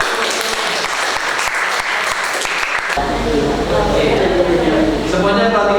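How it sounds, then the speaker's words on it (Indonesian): Classroom applause from students in a vocational design class in Indonesia, dense steady clapping that swells and thickens midway, with voices mixed in underneath. "tepuk tangan terus ya"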